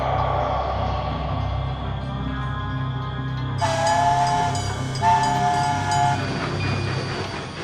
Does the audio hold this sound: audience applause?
no